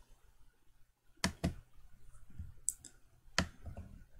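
Computer mouse clicks while working in FreeCAD software: a handful of sharp, close clicks, some in quick pairs, spaced over a quiet room background.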